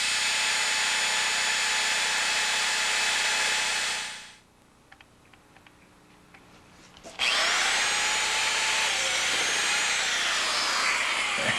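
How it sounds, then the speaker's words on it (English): A corded power drill drills out a broken part with a drill-out power extractor while a Chrysler LeBaron Turbo head gasket job is underway. A loud, steady whine runs, cuts out for a few seconds with faint handling noises, then roars back at full speed. "let me plug in this drill, buddy."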